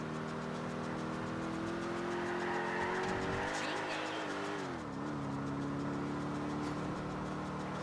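A car races along in Grand Theft Auto IV with a steady engine drone. A brief tire squeal and skid rise near the middle, then the engine settles back to a constant hum.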